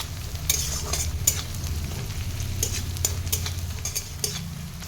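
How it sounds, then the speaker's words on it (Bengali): Onions frying in a wok on a low flame sizzle steadily while a utensil stirs and scrapes them in irregular strokes, close and moderately loud. "পেঁয়াজগুলো লো ফ্লেম গ্যাসে ভাজতে হবে।"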